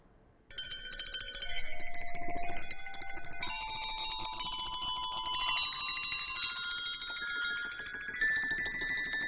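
Rapid metallic trills ring out from a wrenchenspiel, a set of wrenches tuned like a glockenspiel, bright bell-like tones shimmering continuously and layering at close range with no voices.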